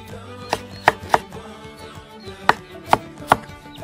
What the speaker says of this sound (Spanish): También voy a utilizar medio pimentón, lo voy a picar así finamente